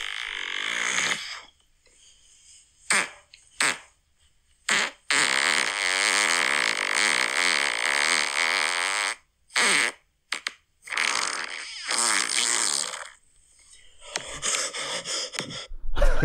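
Someone imitates fart noises with their mouth pressed against their arm, a long series of loud, varied, buzzy blurts and sputters of differing lengths, split by short pauses and gasping breaths, with no talk.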